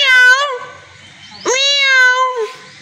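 A person imitates a cat, voicing two loud, drawn-out meows with a pause between them, close and clear with no other sound.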